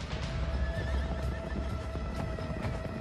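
Horses whinny and neigh, with dense hoof and crowd commotion behind them, as mounted Hunkpapa and Oglala warriors dash about before soldiers in a battle on horseback; steady, busy and fairly loud throughout.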